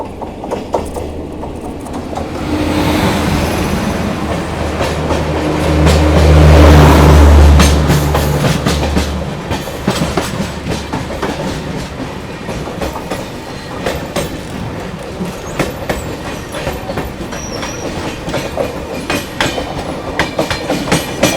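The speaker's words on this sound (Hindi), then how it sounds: "सामने से आ रही है आप लोगों की MGR Chennai central LTD superfast express" The MGR Chennai Central superfast express (22159 Chennai Express from Mumbai CSMT) rolls past with a steady rumble of wheels and clickety-clack, swelling as it draws near and staying loud and continuous, with no talk.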